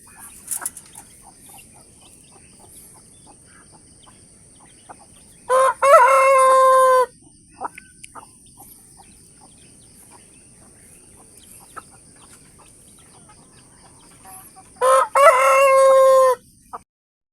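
Paraoakan chickens in a quiet yard: two loud, close rooster crows break the near-silence, with faint scattered clucks and soft bird calls in between.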